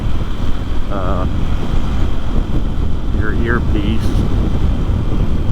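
Steady wind roar buffets the microphone of a rider on a Honda XR150L motorcycle in Kisatchie National Forest. A low rushing noise runs throughout, with the motor buried beneath it and someone speaking over it.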